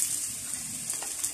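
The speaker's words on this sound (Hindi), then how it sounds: "अब हम प्याज डाल देंगे।" Onions hitting hot oil in a pan for a mutton paya curry give a soft, steady sizzle with watery hiss, continuous and moderately quiet, heard close up and alone.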